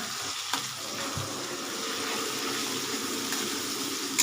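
Masala lightly frying in oil in a pan for a spicy tilapia curry, a steady close sizzle running throughout with occasional stirring clatter, no talking.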